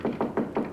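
Four evenly spaced, muffled knocks on a door, close and fairly soft, in a steady rhythm.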